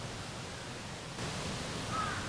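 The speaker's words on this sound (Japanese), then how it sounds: "隣にある川の音と鳥の声だけが聞こえます。" A river runs steadily alongside a quiet street in Gion Shirakawa, Kyoto, as a soft broadband wash, with a brief bird call sounding faintly near the end.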